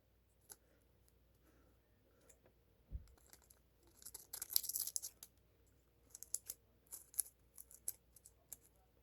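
Scissors snipping material for a mod that makes an LED watch light evenly: a scatter of quiet, close clicks and cuts, with a denser burst of snipping midway and no talk.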